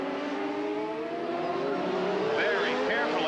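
1992 CART Indy-style race cars at Laguna Seca's turn 11 threading past slower traffic, with a steady, loud engine drone that rises into revving whines toward the end while a commentator talks over it.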